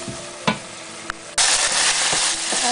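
Ground beef sautés in a pan for pancit palabok, starting with a few quiet stirring clinks before a loud, steady sizzle bursts in and continues under the scraping of the stirring.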